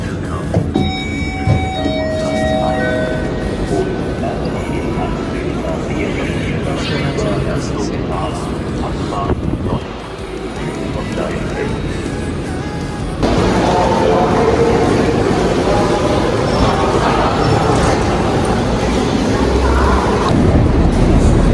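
A Deutsche Bahn train rumbles at a station platform in Germany, giving a steady, loud, broad roar of rail and station noise that shifts partway through.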